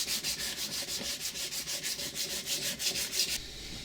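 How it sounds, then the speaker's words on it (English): Rhythmic back-and-forth sanding of a homemade wheel for a DIY reverse trike, steady close scraping strokes about five or six per second, continuing alone and stopping near the end. "let's sand it again, just to take out the irregularities again"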